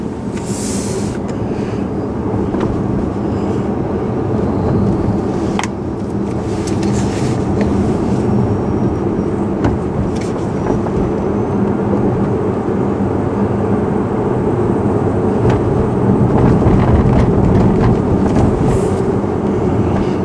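Tesla Model S facelift driving at low speed, a steady broadband road and chassis rumble with faint brake disc and suspension noise running continuously throughout.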